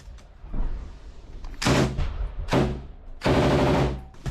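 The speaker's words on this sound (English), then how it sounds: "Watch out, he's shooting at our corner." Machine gun fire during a battle, heavy rapid bursts close by, four loud sustained volleys separated by short gaps with background rumble.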